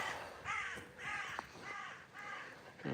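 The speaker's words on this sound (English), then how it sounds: "There's some crow." Crows caw outdoors on grassland near old brickwork, four harsh calls spaced about half a second apart at moderate distance, with faint rustling in between.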